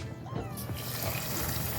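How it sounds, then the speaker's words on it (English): Cold tap water runs steadily into a sink bowl while homemade butter is washed, a continuous close splashing rush with no voices. "Put some more cold water in there."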